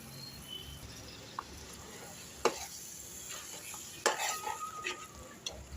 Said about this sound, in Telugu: మసాలా ఆయిల్ ఇలా పైకి వచ్చిన తర్వాత టమాటా ప్యూరీ వేసేసేయండి.